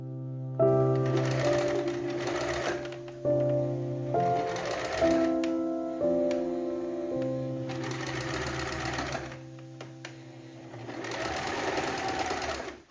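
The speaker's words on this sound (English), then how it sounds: "I am going ahead and stitching on that elastic with a zigzag stitch" A sewing machine zigzag-stitches elastic onto a lace bra cup, running in four close, loud bursts of rapid whirring and needle chatter separated by short pauses.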